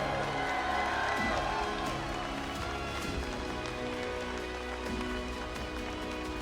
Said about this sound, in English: Give it one more round of applause for Ground Zero!